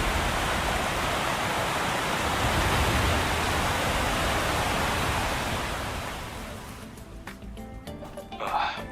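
Broad steady roar of rushing water after a valve opens in Stellar Blade, loud and continuous before easing off in the last few seconds as clicks and small sounds emerge.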